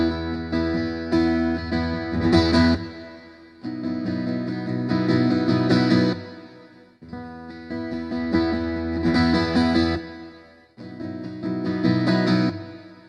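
Phrases of a sustained, harmonically rich instrument drenched in a lush plate reverb from an AS100D unit, the tail smearing each note into the next across four swells.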